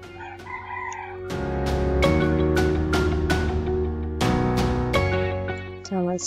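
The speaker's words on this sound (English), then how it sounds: "Let's just trace this while enjoying the sound of the chickens." A rooster crows loudly several times in succession among clucking chickens, each crow bright and drawn out, nearby and dominant with little else around.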